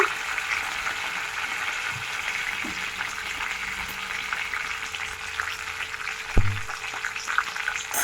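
Green chilies and curry leaves frying with cumin in hot oil, a continuous loud sizzle and crackle close up, with a sharp clink of utensil around the middle and no speech.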